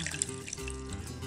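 Water pours steadily into a blender jar holding chopped onion, garlic and chipotle chiles, a close continuous splashing rush lasting about a second.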